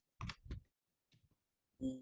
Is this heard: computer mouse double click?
yes